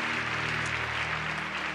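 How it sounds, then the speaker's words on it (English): A standing church congregation at an Easter Sunday service claps for a stage production, producing a continuous, fairly loud wash of applause over a low, steady musical hum. "could you give one more hand clap for this amazing production?"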